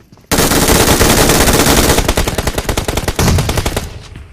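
Sustained MG3 machine-gun fire in a battle royale game, a loud, dense rapid burst lasting about four seconds, close and continuous with no talk over it.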